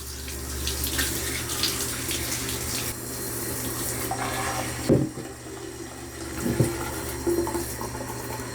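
Water streams steadily from a shower into the emptied tank of a UWANT D100 cleaner as it is rinsed of dirty egg residue, a continuous close splashing rush broken by two brief knocks near the end.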